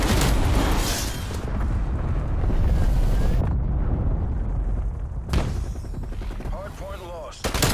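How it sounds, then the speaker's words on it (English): Cruise missile blasts and heavy gunfire in a combat video game, loud rumbling explosions with sustained roaring noise and a few sharp bursts, dense and close throughout. "Cruise missile inbound."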